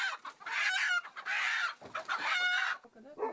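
Eleven hens kept in a farm shed cluck and squawk in several loud, close bursts with short pauses between them.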